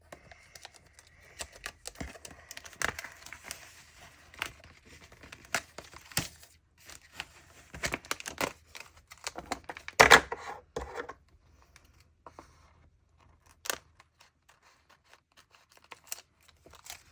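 Paper for a journal being trimmed with scissors: sparse, crisp snips and crinkles close by, irregular and quiet, with pauses between cuts.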